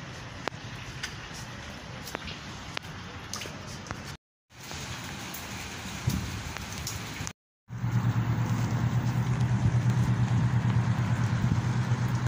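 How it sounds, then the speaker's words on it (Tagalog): Rain falls steadily outdoors in Kuwait as a dense, even hiss with a low idling engine hum beneath it, growing louder and fuller after a brief break. "Ulan na dito sa Kuwait guys."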